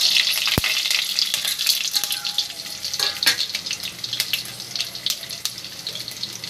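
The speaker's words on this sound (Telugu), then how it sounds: "ఆవాలు, జీలకర్ర వేసేస్తున్నాను." Mustard seeds and cumin crackle and sizzle in hot oil with garlic, chana dal and urad dal while tempering gongura curry, a steady close frying hiss dotted with sharp popping seeds.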